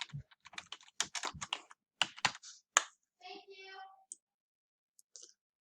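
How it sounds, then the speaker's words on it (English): Quick bursts of computer keyboard typing, sharp clicks in uneven runs, then a short tonal sound and a few scattered final keystrokes. "I'm going to start typing with my title."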